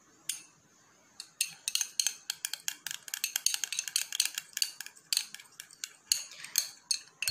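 Homemade liquid lipstick mixed with castor oil being stirred in a small container, giving a quick run of close, sharp clicking and tapping strikes in an uneven rhythm after a brief quiet start.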